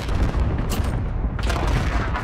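Rapid, dense video-game gunfire in a continuous loud burst, close and rumbling with overlapping booming shots and a couple of sharper cracks standing out, with no voices.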